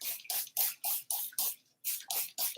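A hand spray bottle spritzes water onto orchid plants indoors on a frigid Chicago day, about nine quick, close hissing bursts in a steady rhythm with one brief pause midway.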